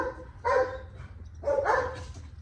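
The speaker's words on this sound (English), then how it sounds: "Crazy dog." A dog gives two loud, close barks about a second apart against a quiet indoor background.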